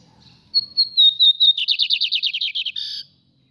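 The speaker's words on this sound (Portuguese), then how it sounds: "Tá piando já. Não tá vendo nadinha, tá piando, ó." A lined seedeater sings nearby: a clear whistled note followed by a rapid series of bright, trilling chirps, loud and alone.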